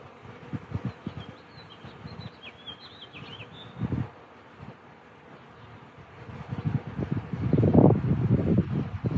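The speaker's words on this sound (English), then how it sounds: "Bees and bee predators, apparently, on the willow." Bees buzz softly among willow branches, a faint steady hum with rustling and a louder gust of wind near the end.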